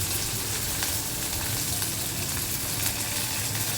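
Curry leaves, cumin and crushed garlic sizzle and crackle steadily in hot oil as they temper, a continuous close frying hiss with no voices.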